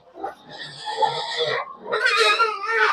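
Two pigs squeal and grunt loudly in a neighbouring pen on a small farm: a drawn-out wheezy squeal, a brief pause, then a second harsh burst of squealing, close to the listener with no talk.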